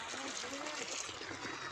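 Irrigation water flowing into a wheat field, a steady close trickling and gurgling stream with no talk.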